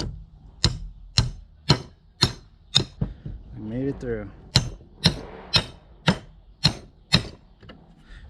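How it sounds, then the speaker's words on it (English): A hammer drives a threaded rod through wood in a steady rhythm, about a dozen sharp, close blows, pausing briefly while a person speaks in the middle. "We get our hammer and we're just going to hammer it right in."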